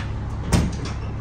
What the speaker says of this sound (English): So these latches have to go on, pull the door.